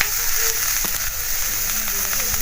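Onions and tomatoes fry in melted butter in a pan for butter chicken, giving a steady close sizzle with faint stirring clinks throughout.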